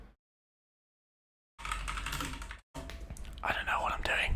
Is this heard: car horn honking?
no